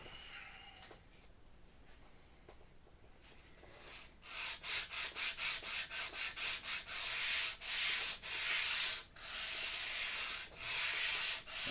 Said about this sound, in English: holding the sanding block at 45 degrees and sanding carefully